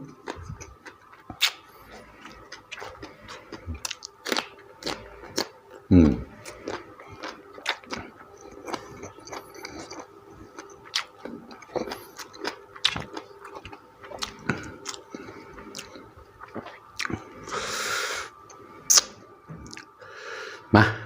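Someone eats crunchy fried chicken with spicy Thai som tam papaya salad up close, crisp bites and wet chewing clicks scattered irregularly over a quiet background, with a few brief stretches of talk.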